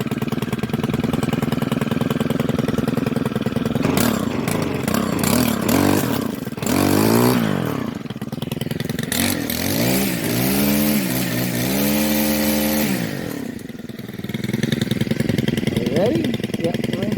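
A Stihl FS111RX four-stroke string trimmer fires up without choke and revs loudly, its engine note rising and falling through several throttle bursts, close and dominant throughout, with brief talk around it.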